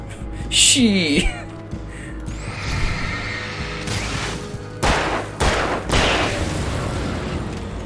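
Gunfire and mechanical clicks in Alan Wake, several sharp shots and booms spread across the stretch, mixed with game effects and close talking.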